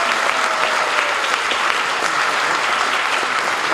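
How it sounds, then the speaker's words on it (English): Sustained audience applause fills a middle school band's winter concert, a dense, even wash of clapping from a seated crowd with no break throughout. "Can we have another round of applause for the hard work they're doing?"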